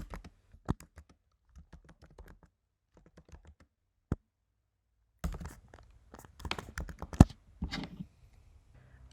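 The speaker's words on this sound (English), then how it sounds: "Let's type in a headline." A headline is typed on a computer keyboard in short bursts of quick, close key clicks separated by pauses, followed by a denser run of typing near the end.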